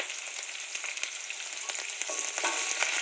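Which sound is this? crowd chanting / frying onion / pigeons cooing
frying onion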